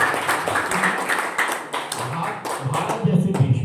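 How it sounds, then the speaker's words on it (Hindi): Applause from a seated audience at a talk on freedom from addiction, a dense patter of many hands clapping steadily and close, with a voice speaking over the clapping. "तो ताली बजा दीजिए इस बात के लिए"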